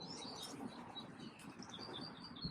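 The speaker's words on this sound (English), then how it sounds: "these birds, they're flying in the trees, they're chirping all over the damn place" Birds chirping in trees outdoors, faint scattered high tweets and calls over a soft ambient bed, distant and quiet throughout.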